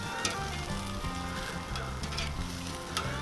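Beef back ribs sizzle steadily on a Kudu grill, a loud and continuous crackling hiss with a faint low hum beneath it and no voices.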